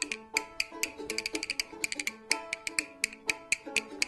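Quick, crisp rhythmic clacking of bones played in a lively pattern of clustered clicks, over a soft musical background.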